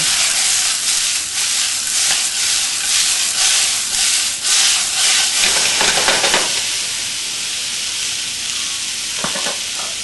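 Vegetables stir-frying in hot oil in a pan, a loud, steady sizzle and hiss with scraping stirring strokes throughout, close up and with no talking.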